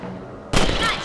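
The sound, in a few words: gunshots in Red Dead Redemption video game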